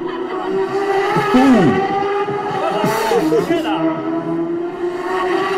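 A racing motorcycle at the Isle of Man TT screams through Church Bends in a senior race, engine pitch rising and falling sharply through gear changes, loud and close, with a voice talking over it.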